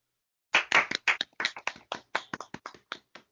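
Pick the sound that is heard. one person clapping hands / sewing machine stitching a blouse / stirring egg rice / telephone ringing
one person clapping hands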